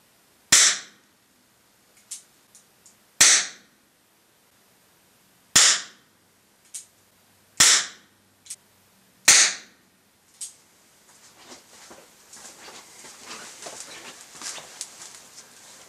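Indoors, a revolver fires Speer plastic training bullets at a 15-foot target, giving five sharp, loud cracks spaced a couple of seconds apart, with faint clicks between them and then softer shuffling and rustling.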